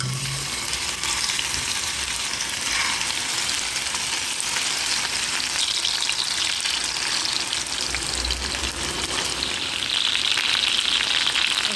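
Meat sizzles and crackles steadily in a hot pan, a dense close-up hiss that stays loud and even throughout with no talking.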